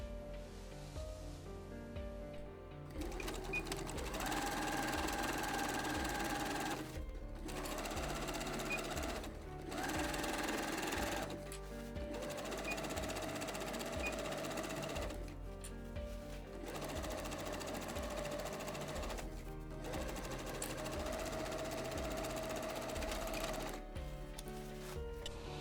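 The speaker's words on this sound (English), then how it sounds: "So simple straight stitch on the sewing machine, and I will sew here" Sewing machine running a straight stitch along the crotch seam of a fabric jumpsuit, a steady whirring hum in long runs of several seconds separated by short pauses, close and alone.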